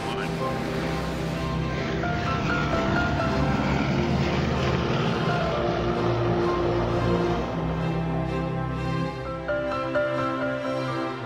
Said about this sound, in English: I missed getting a good shot of their flyby, so I asked them to make another for my camera